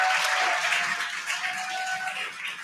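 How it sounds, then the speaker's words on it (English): A crowd cheers and claps during a SpaceX Dragon capsule's return, as astronauts home after nearly a year descend under two drogue parachutes; a steady, fairly loud wash of cheering fills the whole stretch, with a faint tone running through it. "You can hear the crowd here."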